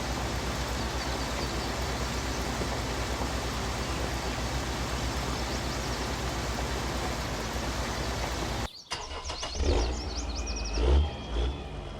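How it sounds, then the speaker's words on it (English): A steady, dense tractor engine drone runs throughout in a field, then cuts off abruptly near the end, leaving quieter outdoor sounds with faint bird chirps. "I love the sound of this tractor"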